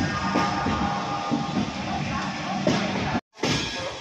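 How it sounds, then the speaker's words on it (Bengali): An Upasana Express train pulls out of Howrah station from platform 8, a close, loud rumble of wheels and carriage clatter with rhythmic knocks, briefly cut off near the end. "2:55 হাওড়া থেকে ছেড়ে বেরিয়ে যাচ্ছে উপাসনা এক্সপ্রেস।"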